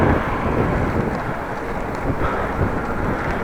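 Steady, loud wind buffeting a microphone outdoors on a ride between Appingedam and Groningen, a broad continuous roar filling the whole stretch with no speech.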